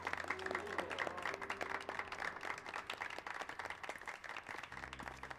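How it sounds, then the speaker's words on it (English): Applause and clapping from a crowd in a Final Fantasy XIV cutscene, a steady wash of many hands at moderate distance, mixed with game music and ambient tones throughout. "Clap, clap, clap. Everyone's happy."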